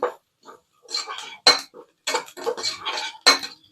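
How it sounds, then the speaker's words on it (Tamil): Vada curry is stirred in a cooking pan, with a loud run of metal spoon scrapes and clinks against the pan coming in quick irregular bursts with short pauses between them. "போட்டோன்னா கிண்டி கொடுத்துக்கிட்டே இருக்கணும்."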